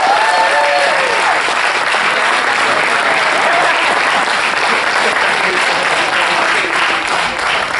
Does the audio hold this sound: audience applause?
yes